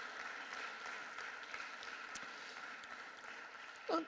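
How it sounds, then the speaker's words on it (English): Conference audience applauding as a panel leaves the stage, a steady even patter of clapping heard at a distance and fairly faint, holding throughout. "Can we please give our whole panel a huge round of applause and thank you as they exit the stage."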